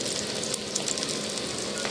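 Potatoes fry in hot oil in a wok, giving a steady, close, continuous sizzle with a faint crackle and no voices.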